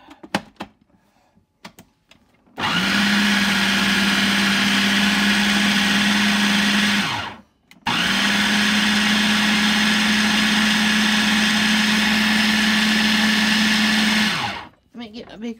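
Blender whirling a chickpea and vegetable meatloaf mixture in two loud, steady bursts of motor whine, each several seconds long with a brief stop between, preceded by faint handling clatter.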